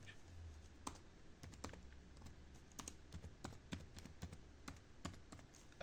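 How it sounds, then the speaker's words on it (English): Irregular, fairly slow keystrokes on a computer keyboard, typed with one hand at a Linux desktop, sounding close and fairly quiet with uneven pauses between taps and no talking. "I type slow with one hand."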